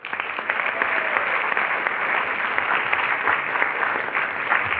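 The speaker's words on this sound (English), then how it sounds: "Let's give them another round of applause." A crowd gives a steady round of applause for a youth service award runner-up at a multicultural leadership day opening session, a dense and even clapping sound heard alone with a muffled, band-limited tone.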